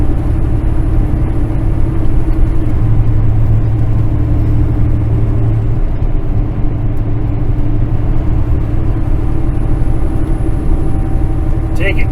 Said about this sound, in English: I got Kenworth with the tanker on, and we're going around the swoopy corners and things